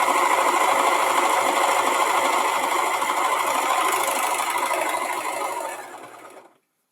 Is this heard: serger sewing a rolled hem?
yes